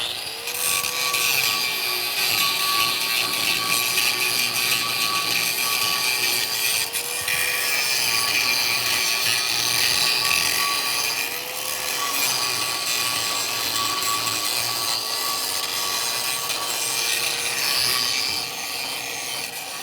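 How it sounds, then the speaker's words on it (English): A grinding wheel cleans up weld high spots on steel pipe, a loud continuous abrasive hiss with a wavering whine as pressure shifts, running steadily for the whole stretch with no talk. "get our grinding wheel switched over"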